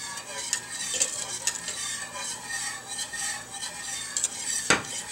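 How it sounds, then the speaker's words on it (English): A spoon scrapes and stirs repeatedly through a thickening apple pear cranberry pie filling in a pan, the continuous close scraping mixed with faint sizzling and a sharp clink of metal near the end. "So you got to keep stirring."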